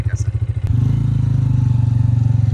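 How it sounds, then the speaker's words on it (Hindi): A 2022 Honda CG 125 motorcycle engine runs steadily and close up, with a low rhythmic thump after a brief gap near the start. The note settles into a continuous, loud idle-to-ride drone. "तो अब हम थोड़ा सी इस बाइक को ड्राइव करते हैं"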